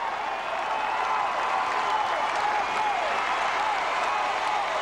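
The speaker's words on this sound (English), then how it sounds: "Thunderous applause from the home crowd." Home crowd at an NCAA gymnastics championship breaks into loud, sustained applause and cheering after a routine, a dense steady roar of clapping filling the whole stretch.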